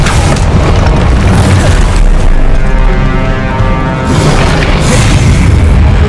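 Explosive spell blasts from the Hogwarts Legacy video game, including Confringo, in a continuous, very loud barrage of deep booms and crackling bursts that swell and overlap during combat.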